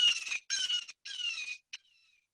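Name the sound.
jay call, bird recording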